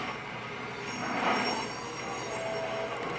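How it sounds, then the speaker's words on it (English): An EMD F7A diesel locomotive in the BeamNG driving game gives a steady mechanical rumble with a metallic whine and faint squeal, a moderate continuous drone that swells briefly mid-clip, with no voices. "Now that's a locomotive."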